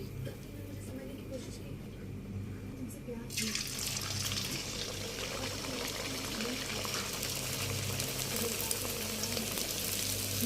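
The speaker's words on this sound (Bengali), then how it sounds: "তেলে দেওয়ার সাথে সাথে কিন্তু নাড়া দেবেন না, একটু যখন লুচিটা ভেসে উঠবে তখন এরকমভাবে তেল উপর দিকে দেবেন।" Semolina luchi frying in hot oil: after about three seconds of quiet, a loud, steady sizzling hiss starts and continues evenly over a low background hum.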